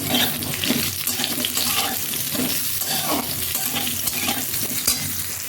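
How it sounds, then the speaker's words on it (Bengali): Sliced pointed gourd fries in a pan with a steady, busy sizzle, punctuated by close scraping and stirring strokes throughout, with no talking. "পটল ভাজছি এখন"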